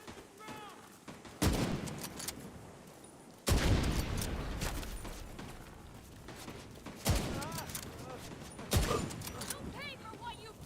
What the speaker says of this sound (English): Wait, where are they shooting at?